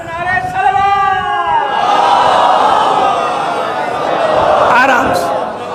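A large congregation at a Muharram majlis loudly chants religious slogans together, voices rising in a continuous roaring chorus for several seconds.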